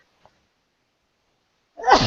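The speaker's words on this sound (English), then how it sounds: "And I had to sneeze." Near silence, then a single sharp sneeze bursts out close up at the very end.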